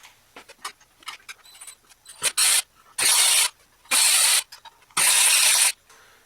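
Ratchet loosening the water pump pulley bolts on a 2009 Ford Crown Victoria P71, belt still on: bursts of clicking, several short taps then three loud sustained ratcheting runs, close up, no talk.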